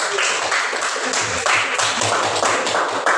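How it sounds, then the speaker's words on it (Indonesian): An audience at a school gathering applauds a student group, a dense patter of many hands clapping at once that carries on steadily and loudly, with some voices mixed in beneath. "Sekali lagi kita beri aplaus kepada kelompok."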